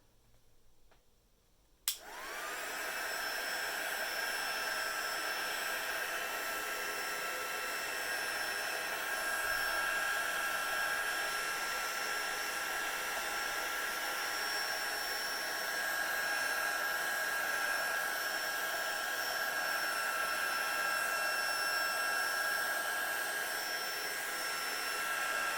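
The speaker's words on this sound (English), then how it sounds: "Here comes the heat gun again." A heat gun for hot foiling switches on with a sharp click and settles into a steady, continuous whirring blow with a faint high whine, running without a break for over twenty seconds at constant volume.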